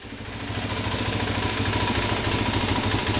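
A Suzuki DRZ dual sport motorcycle engine idles close by, a steady, slightly clattery mid-pitched rumble that fades in and then holds even, with no talking.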